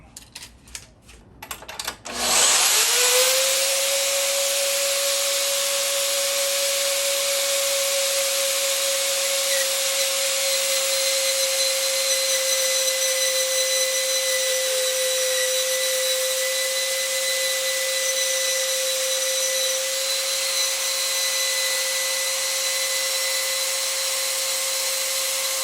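A Harbor Freight Hercules bench-top band saw starts with a clatter and then runs steadily while cutting a 1.5-inch metal pipe, giving a loud continuous whining drone with a constant tone and no talking.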